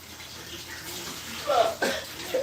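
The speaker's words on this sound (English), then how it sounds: "go ahead, fill that up. So about right there with water." Tap water runs into a cooking pot in a home kitchen. The stream is faint and steady, then splashes briefly louder a few times near the end.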